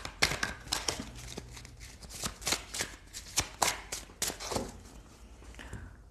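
Tarot cards are shuffled by hand at close range in a quiet room, a string of crisp riffling bursts and soft slaps in an uneven rhythm, with no talking.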